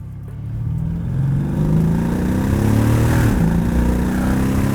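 Mercedes S63 AMG engine dropping into first gear while driving, a dense low rumble that swells and holds steady with a brief blip in the middle, heard from inside the car with no talking.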